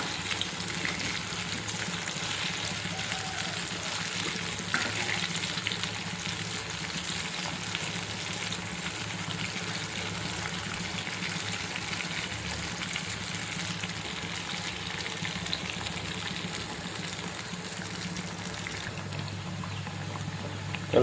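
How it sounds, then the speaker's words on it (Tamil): A vegetarian seer fish fry, made from a vegetable, sizzles steadily in an oiled pan for a long stretch, a continuous close crackle with no talking. "நல்லா ஃப்ரை ஆகுது."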